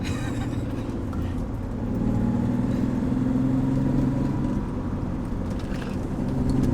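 A BMW E30 with a swapped manual transmission cruising in fifth gear at 50 mph and about 2,500 RPM: a steady low engine drone with road rumble inside the cabin, swelling slightly midway.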